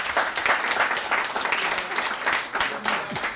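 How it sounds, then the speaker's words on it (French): Audience at a conference event in Marseille breaks into sustained applause, dense clapping filling the room steadily for the full stretch with no pause. "j'aimerais maintenant qu'on l'applaudisse spécialement"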